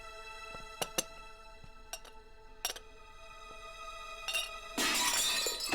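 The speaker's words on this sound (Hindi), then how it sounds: "ये अंदर से शोर कैसा आ रहा है? कुछ नहीं, वो बस कप टूट गया गलती से।" A cup smashing by accident indoors, heard as a few sharp clinks followed by a loud burst of shattering ceramic near the end, with no voices over it.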